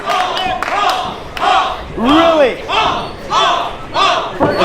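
At a live wrestling event, a wrestler mimics a goose with a series of loud, rhythmic nasal honks while the crowd reacts around him and a voice briefly speaks.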